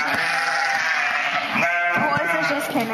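Old sheep bleat repeatedly in a farm park animal pen, loud and close, with several overlapping calls, while people talk quietly in the background.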